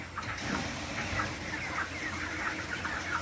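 Cornish Rock Cross meat chickens clucking in a coop on a hot day, a close, continuous chorus of soft clucks and murmurs at moderate volume.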